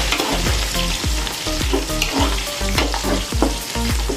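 Chopped green chillies frying in hot oil for a ridge gourd sabzi, a dense, loud crackling sizzle with rapid spattering pops and a low steady rumble underneath, heard close and without any talk.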